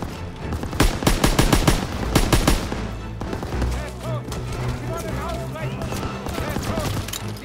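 Machine gun fire in the video game Call of Duty: WWII, with rapid bursts up close and scattered battlefield shots beneath shouting voices.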